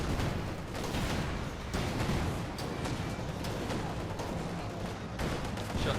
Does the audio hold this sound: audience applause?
no